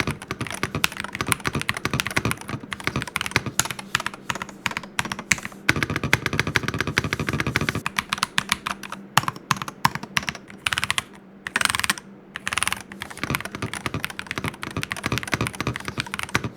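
Mechlands M75 Hall effect mechanical keyboard typed on in a steady, continuous stream of close, soft-clacking keystrokes with a brief denser burst midway, heard alone with no talking.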